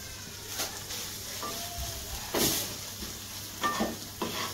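A spoon stirs Loite fish curry with potatoes and chopped coriander in a pan, giving soft scraping strokes over a faint, low sizzle.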